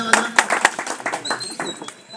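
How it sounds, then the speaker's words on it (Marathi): An audience bursts into loud, rapid applause on a count of three, with sharp claps rippling through a room over a speaker's voice. "एकदा टाळ जोरदार टाळ्या वाजवा"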